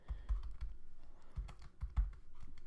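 Close, quick keystrokes on a computer keyboard come in uneven bursts of clicks and taps, with a short pause in the middle and no voices.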